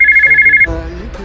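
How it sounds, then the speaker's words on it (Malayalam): A telephone ringtone trills in quick pulsing beeps for about half a second, then cuts off into a short burst of voice and background sound from a radio drama. "ഫോൺ അടിക്കുന്നു."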